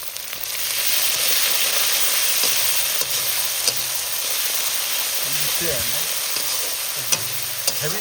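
Cardamom, ginger, garlic and green chilli frying in hot oil during a chicken and pilau cook-up in the Sundarbans, a loud steady sizzle with soft stirring scrapes and faint pops.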